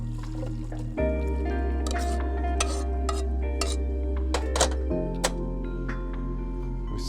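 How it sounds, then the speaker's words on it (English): Cooked salad ingredients strained in a home kitchen: clinking pans and utensils with light liquid trickles over a steady low hum, scattered sharp clatters, no talking. "And now we're going to strain it."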